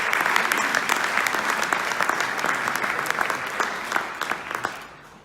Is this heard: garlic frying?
no